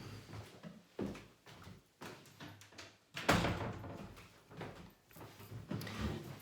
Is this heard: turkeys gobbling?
no